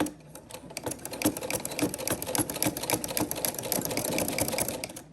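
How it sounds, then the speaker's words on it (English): A sewing machine stitches a zipper pouch in a fast, steady mechanical chatter, running forward and then in reverse with brief pauses, close and clear with no voices. "We're gonna stitch forward and we're gonna reverse."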